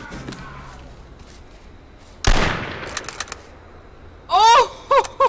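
One sharp, loud crack from a long-range sniper rifle in the online shooter H1Z1, followed by a brief rattle, then a short excited human shout near the end.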